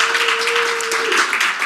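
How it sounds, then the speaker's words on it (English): Audience applause at a teachers' professional learning session, a brief dense patter of clapping over a steady tone, moderately loud throughout. "So let's give them a big round of applause."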